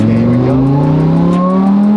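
A supercharged Lamborghini STO engine accelerates hard, its loud steady rising tone climbing smoothly in pitch for two seconds at close range with no talk.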